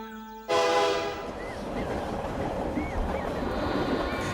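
A train sound effect in a Bengali audio drama opens with a sudden loud horn blast, then settles into a continuous rolling rumble of the moving railway carriage, with faint squeals and no voices.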